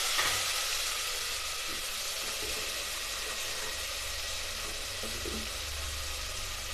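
Tomato and onion fry with a pinch of salt in a home kitchen pan, giving a steady, soft sizzle that holds evenly throughout with no voices.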